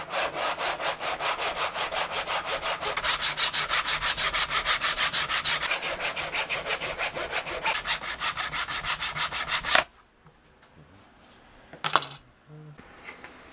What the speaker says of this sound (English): I'll wax my blade, and we're just going to go cut 24 slots, 25 actually,